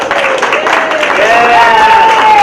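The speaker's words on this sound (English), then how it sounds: "Give him a big round of applause" Loud crowd applause at an outdoor ice cream festival after a performer takes a bow, a dense roar of clapping and cheering with a high, sustained whistle-like tone rising through it.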